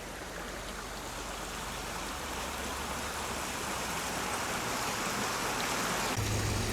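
A mountain creek in the Great Smoky Mountains rushes over big boulders, heard up close as a steady, loud, broadband wash of water that holds constant throughout, with no voices.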